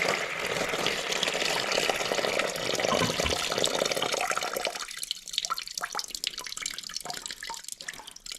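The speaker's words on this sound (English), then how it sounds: "all that water is probably going to go out into the basin" Water drains from a Toto toilet tank into the bowl, a steady rushing wash for about five seconds that then thins into sparse, distinct drips and trickles close by.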